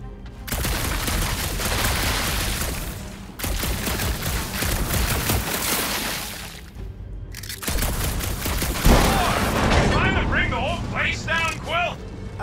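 Gunfire in the game Guardians of the Galaxy comes as dense, loud bursts of blasts separated by short gaps, with a voice talking over the later part.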